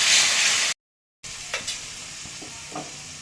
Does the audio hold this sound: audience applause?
no